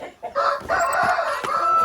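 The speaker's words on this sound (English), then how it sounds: "Grandpa, I'm gonna catch a chicken." Chickens cluck and a rooster crows at a farm, a few sharp calls close by over a brief stretch.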